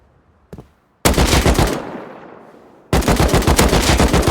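Automatic gunfire in the survival video game Rust, with a faint pop and then two loud bursts of rapid shots, the first trailing off into a fading echo before the second sustained burst starts.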